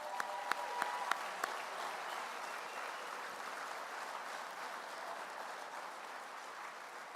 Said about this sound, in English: let's give them all a round of applause while we do that